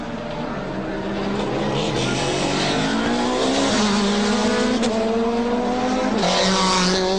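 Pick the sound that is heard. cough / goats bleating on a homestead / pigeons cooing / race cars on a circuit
race cars on a circuit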